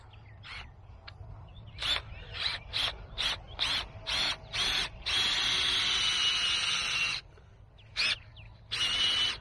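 A power auger bores a two-foot planting hole in garden soil among groundcover, its motor whining in short repeated bursts, then running steadily for several seconds before a few final bursts, close and fairly loud.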